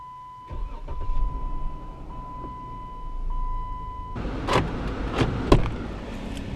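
A 2015 Jeep Wrangler Sahara engine labouring under acceleration, a low strained drone that steps up and grows louder partway through, with a few sharp knocks and clunks from the cabin, no talking.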